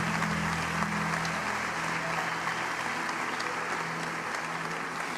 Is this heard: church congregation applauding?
yes